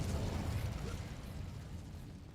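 Incendio fire spell cast in the game Hogwarts Legacy, a faint rumbling whoosh of flame that is strongest at the start and then fades into a low, dull burst.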